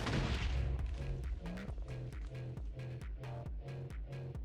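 An M26 Pershing's 90mm tank gun fires repeatedly in the MCHeli combat game, sharp cannon blasts hitting in a steady, evenly spaced series over a low mechanical hum.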